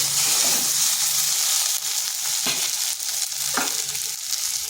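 Pieces of taro (kochu) sizzling and frying in a pan, a loud steady crackling hiss with a few soft scraping stirs, close up and without talk.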